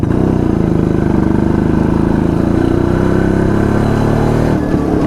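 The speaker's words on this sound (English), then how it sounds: "when you rev this motorcycle, it obviously has to vibrate because this is a single cylinder motorcycle" A single-cylinder two-stroke engine on an old Jawa Yezdi D250 Classic motorcycle runs loud and close, its rapid buzzing putter rising and settling as the throttle is revved.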